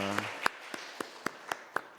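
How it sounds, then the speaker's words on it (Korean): After a brief voice, a church congregation claps in a steady, evenly spaced rhythm during a Sunday service, fairly faint and somewhat distant. "박수로 한번 이렇게 격려 박수를 주셨으면 좋겠습니다"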